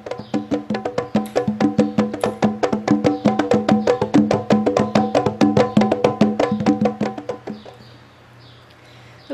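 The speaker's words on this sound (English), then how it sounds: "I played different percussion parts inspired by candombe and by another style called murga for the drum set part" Argentine candombe and murga-style percussion played on a drum set, loud, dense rhythmic hits repeating steadily for about eight seconds before stopping and leaving a quiet tail, with no talking.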